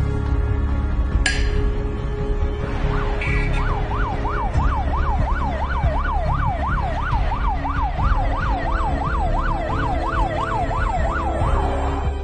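An ambulance siren wails in a steady rising-and-falling pattern, loud and close over a low road rumble, starting after a brief sharp click and continuing without pause to the end, no voices.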